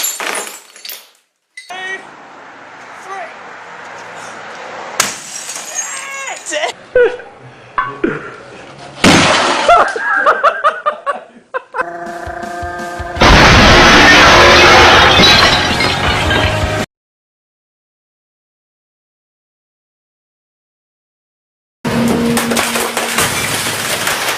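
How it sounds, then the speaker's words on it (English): An old TV's glass screen smashes: several sharp crashes and bursts of shattering and splintering glass, close and loud, with voices around them, a silent gap, then another burst of breaking glass. "Shows you how quickly glass cracks"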